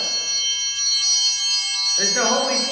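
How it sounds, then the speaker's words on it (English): A hand bell rung at the consecration during an Easter Sunday Mass, its bright metallic ringing starting partway through and continuing near and clear, with a low murmur of speech beneath. "Ring the bell."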